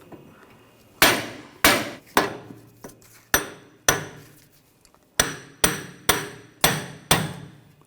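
A hammer strikes a punch on the wheel hub of a 2007-2013 BMW X5, with about a dozen sharp metallic blows in irregular groups, close and loud, each ringing briefly.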